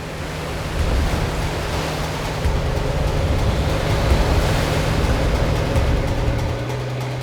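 Rough sea waves surge over the bow of a fishing boat hunting octopus, a loud, steady roaring wash of water and wind with a low engine hum underneath.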